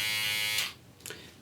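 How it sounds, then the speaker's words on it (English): A hair-cutting electric shaver buzzes steadily up close for over half a second, then cuts off abruptly, followed by a brief faint rustle. "it's not even too noisy for a shaver"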